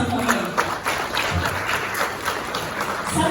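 An audience applauds at an event about music and media, giving a dense run of steady clapping with a faint voice underneath.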